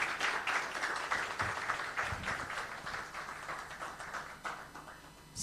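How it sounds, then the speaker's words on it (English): Audience applause fills a conference hall at a Nigerian economic outlook event, a steady, moderately distant patter of many hands clapping that slowly thins toward the end. "can we give him another round of applause?"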